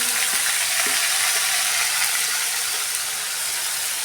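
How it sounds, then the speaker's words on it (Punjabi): Ground onions sizzle in a pan while aloo sabji is being cooked, a steady bright frying hiss running evenly for several seconds with a few faint clinks near the start. "ਤੇ ਆਹ ਆਪਾਂ ਪਿਆਜ਼ ਜਿਹੜੇ ਆ ਗ੍ਰਾਈਂਡ ਕੀਤੇ ਆ ਉਹਨਾਂ ਨੂੰ ਪਾਵਾਂਗੇ"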